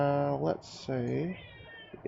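A cat meows loudly for attention indoors, two long drawn-out yowls close by, with someone speaking briefly between them.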